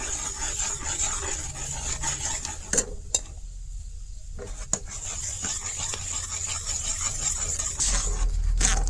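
A peanut and milk mixture goes into boiling sugar syrup in a pot, with metal utensil clinks and stirring scrapes up close over a low bubbling hiss and one brief quiet gap.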